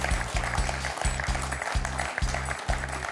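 Studio audience on a French television quiz show applauds a contestant who just scored two points, brisk clapping over a loud rhythmic low pulsing musical jingle.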